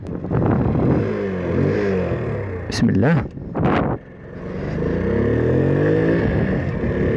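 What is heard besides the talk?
Honda C90 moped engine revving on a test ride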